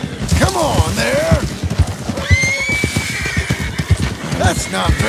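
Wild horse in the Red Dead Redemption western game neighs and whinnies several times, close and loud, with hoof clip-clop and a voice talking around it.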